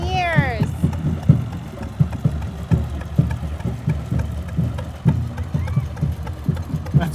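Hit and miss engine mounted on a parade cart with a Myers water pump and water wheel at a Fourth of July parade, chugging in a steady irregular thump close by, with crowd chatter and voices over it.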